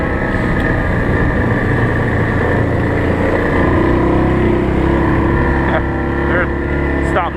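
An ATV engine drones steadily while riding through snow on a winter trail, a loud continuous motor hum with faint clicks and rattles near the end.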